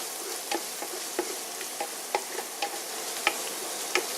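Garlic and lemongrass fry alone in a pan, giving a steady fine sizzle broken by small crackling pops every half second or so, close by and fairly quiet, with no speech.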